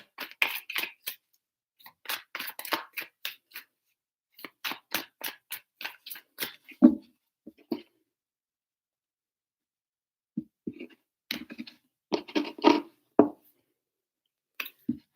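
Tarot cards shuffled by hand in three separate bursts of quick, crisp riffling and slapping, close and fairly quiet, with silent pauses between.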